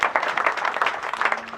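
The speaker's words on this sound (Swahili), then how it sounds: "weka makofi." Dense clapping from a crowd at a memorial gathering, a steady patter of many hands, close and continuous for the whole short stretch.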